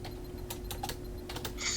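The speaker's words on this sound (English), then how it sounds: "Typing away." Quiet typing on a computer keyboard, a few soft irregular key taps close by against a low steady hum, with no talking.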